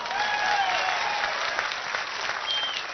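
Dense crowd applause at a political rally in Udalguri, steady and loud clapping from many hands filling the whole moment.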